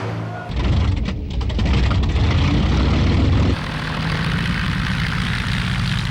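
Luftwaffe propeller aircraft over wartime London, a loud droning engine roar that swells and holds steady, then drops to a lower sustained hum.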